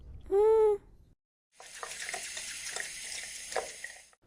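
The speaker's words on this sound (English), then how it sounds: "First, we fill a clean saucepan with tap water" Tap water runs from a kitchen faucet in a steady hissing stream for a few seconds, close and clear, after a short high tone and a brief pause.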